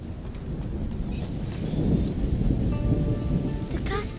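Steady rain and rolling thunder in the video game A Plague Tale: Innocence, a dense, continuous downpour with a low rumble swelling in the middle; no voices.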